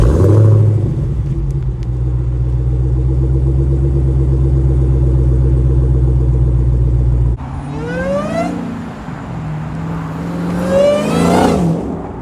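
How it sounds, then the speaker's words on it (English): Wide-body 2023 Dodge Challenger Hellcat Redeye exhaust giving a deep, steady idle rumble that runs loud and close, then breaks into sharp revs that rise and fall with quick throttle blips. "We'll give you an exhaust clip right now."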